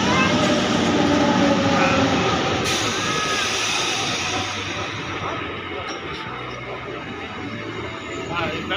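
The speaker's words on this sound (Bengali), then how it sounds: "তো চলে এসছে হাবড়া লোকাল" A Habra local commuter train arrives with broad rumbling rail noise that is loud and steady, then eases slightly, while people talk over it on a busy platform.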